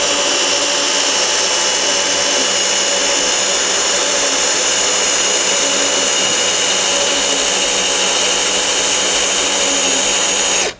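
A Procraft PA18DFR cordless drill running at first speed, with grease added, gives a loud, steady, unbroken motor whine for about ten seconds and then stops abruptly.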